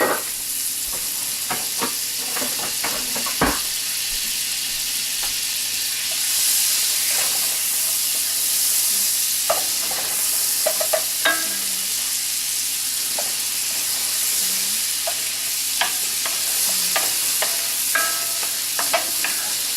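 Butter warms and sizzles in an enamel cast iron pan, a steady frying hiss close up, with scattered clicks and scrapes of a utensil stirring throughout.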